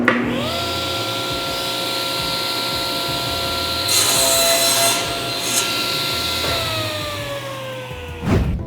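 Power saw cutting wooden stock into 12-inch lengths for chopsticks: a steady high motor whine with brief, louder cutting bursts as the blade bites into the wood. No speech.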